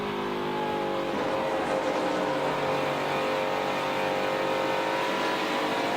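A NASCAR Truck Series racing truck roars at full throttle, a loud, steady, high-revving engine drone held throughout with no pause.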